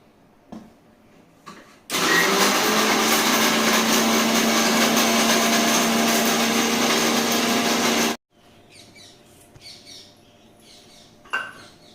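A household mixer grinder starts abruptly in a quiet home kitchen and runs at a loud, steady whir with a constant hum for about six seconds before cutting off, leaving faint room sounds.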